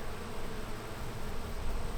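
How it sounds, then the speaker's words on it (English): Bees swarm around a honey hive in a steady, dense buzzing drone that fills the air at a constant level, with no talk over it. "There are lots and lots of bees."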